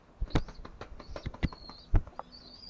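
Young birds in a dirty coop give thin, high peeping calls, close and moderately loud, over irregular clacks, taps and shuffling.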